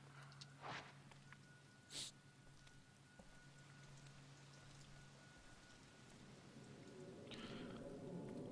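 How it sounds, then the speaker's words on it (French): Steady rain patter from the video game Project Zero: Maiden of Black Water fills the background, with a few sharper splashes and a constant low hum underneath; no voices. "Il pleut. Je vais donc être mouillé."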